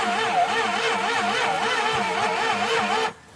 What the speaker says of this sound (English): So we just established that the engine turns over.